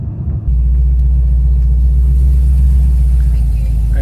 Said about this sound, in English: we'll try the bigger burnout first